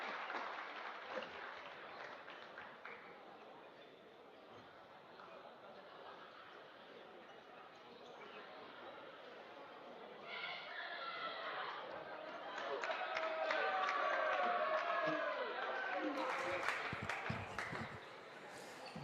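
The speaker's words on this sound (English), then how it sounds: "One big round of applause for our seniors." A gym crowd at a high school varsity wrestling dual applauds the seniors with steady clapping that swells toward the end, some cheering mixed in, heard from within the stands.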